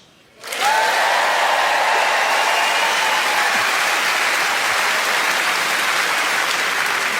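Applause erupts from a large audience after a brief quiet moment and continues steadily, loud and dense, filling the space.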